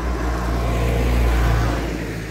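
Loud, steady road rumble and engine drone from inside a car driving home, constant and close with no talking.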